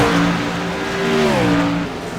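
Stock cars race down the front stretch at Richmond, engines whining loudly with overlapping pitches that climb and shift as several cars pass close by.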